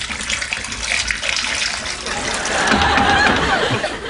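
Bath water running into a tub full of bubbles, a steady close gush and splash that swells louder toward the end, with faint voices in the background.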